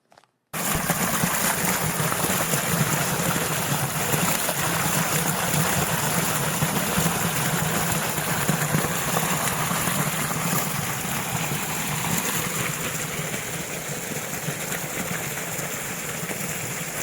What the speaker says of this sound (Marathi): हे खळखळणारं पाणी, याचा आवाज तुम्हालाही ऐकायचा आहे का?